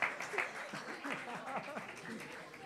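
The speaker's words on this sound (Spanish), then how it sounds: "Fuerte el aplauso para Cime." An audience claps at a concert gala, a moderately loud wash of applause with scattered voices and faint chuckles mixed in, steady across the short stretch.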